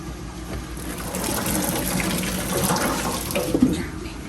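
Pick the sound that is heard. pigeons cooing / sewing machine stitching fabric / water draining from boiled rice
water draining from boiled rice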